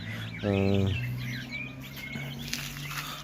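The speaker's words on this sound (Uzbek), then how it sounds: "Mana lekin konkretni xo'roz." A rooster lets out a short, loud harmonic crow near the start among chicks, with high, thin chirping scattered around and continuing after the call fades.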